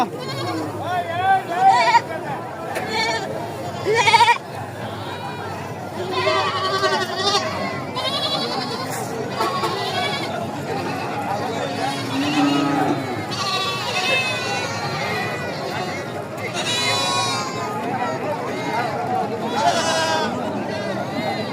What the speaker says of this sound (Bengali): এখানে প্রচুর ছাগল আমদানি হয়